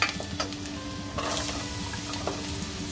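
Grated radish hits a hot pan with oil and turmeric, setting off a sudden loud sizzle that keeps crackling steadily, with a few stirring scrapes in a home kitchen.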